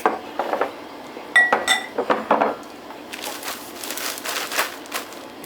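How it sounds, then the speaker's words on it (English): Vanilla wafers are crushed inside a Ziploc bag, with several sharp crunching and crinkling bursts followed by a run of softer rustling, cracking plastic sounds, close and alone. "Goes in my Ziploc. And get those crushed."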